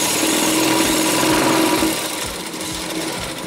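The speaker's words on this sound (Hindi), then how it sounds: "इस जगह में सीधा करके सिलाई दे रहा हूँ।" A sewing machine runs steadily while stitching a blouse boat neck, its loud, even whirr continuous for about two seconds before easing to a slightly softer, slower run. No one speaks.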